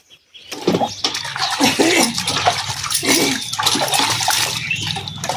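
Water is poured and splashed in a village setting, a loud continuous gushing rush that starts abruptly after a brief silence and keeps going, with faint voices underneath.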